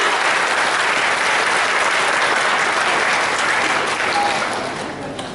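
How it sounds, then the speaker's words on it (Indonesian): At a motivational training event, a large crowd applauds BioGreen with loud, sustained, dense clapping that fades slightly at the close. "Tepuk tangan sekali lagi untuk BioGreen, ya."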